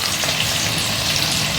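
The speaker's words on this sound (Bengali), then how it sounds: "এখন আমি পেঁয়াজটার সঙ্গে টমেটোটাকে একটু ভেজে নিচ্ছি।" Onion and tomato frying in a pan with ground spices such as turmeric, chilli and cumin, a steady close dense sizzle with no talk.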